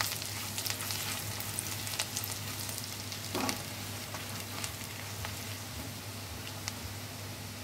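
Grated garlic sizzles in hot oil with a dense, continuous crackle and faint stirring scrapes, close and steady throughout with no talking.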